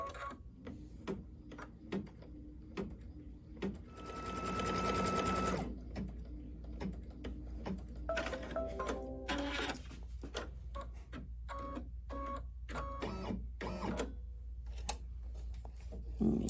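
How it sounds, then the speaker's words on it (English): A domestic sewing machine stitches a tack-down line on a quilted Christmas sew-along block, running in a steady close whir with short pauses and restarts between bursts of stitching, no talking over it. "I'm going to stitch down my tack down stitch"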